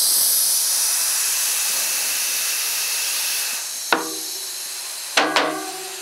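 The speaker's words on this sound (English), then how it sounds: "There she goes. Air compressors are brilliant" An air compressor hisses steadily through a small nozzle while inflating a bicycle tire, the loud rushing air fading out before a few sharp knocks and clatters close by.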